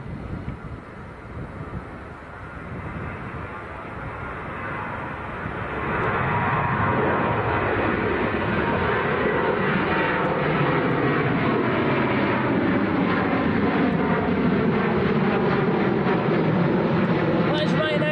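A Ryanair airplane bound for Corfu at Manchester Airport, a jet roar that swells midway and holds loud and steady, with people talking over it.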